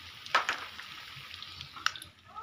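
Snack pieces frying in hot cooking oil, a steady soft sizzle with a couple of brief louder crackles and spatters, fairly close and heard alone without talk.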